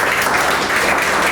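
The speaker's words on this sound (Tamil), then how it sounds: "பேச ஆரம்பிச்சோடனே கைத்தட்டு வந்துருச்சு." An audience applauds someone speaker at a Women's Day stage show, a dense, steady wash of clapping that lasts the whole short moment with no voices over it.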